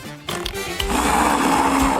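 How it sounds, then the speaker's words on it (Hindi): An electric blender whirs loudly and steadily, starting after a brief moment of quiet and running continuously as it purees yogurt, sugar and greens for homemade ice cream. "ब्लेंडर में सब कुछ डालें और मिलाएं"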